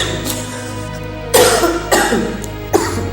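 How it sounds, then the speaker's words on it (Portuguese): Several separate allergic coughs, loud and close, arriving in short bursts over a few seconds with no speech between them. "Perdão que eu estou com uma tosse alérgica."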